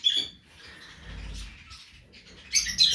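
A small bird chirps in a trap-style cage, giving a few thin, high twittering calls that come and go in a quiet room, with a louder burst of chirps near the end.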